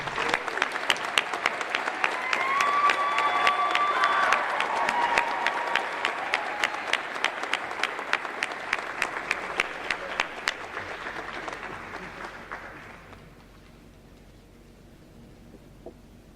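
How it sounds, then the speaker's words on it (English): An audience at a gymnasium naming and dedication ceremony for Richard Gillespie claps in a sustained round of applause, dense and loud before thinning out and fading to a few scattered claps and quiet room tone. "One last round of applause for Mr. Gillespie, please."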